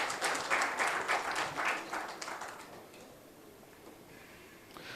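Audience applause at a formal event welcoming a guest speaker, loud at first with scattered hand claps, then thinning out and fading to near silence.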